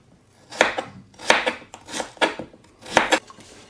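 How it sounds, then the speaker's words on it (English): A knife slices halved potatoes into quarter-inch-thick pieces on a cutting board, giving about six crisp, close chopping strokes in a loose, uneven rhythm with no talking. "I just cut the potatoes in half and just cut the potatoes about a 1/4 inch thick"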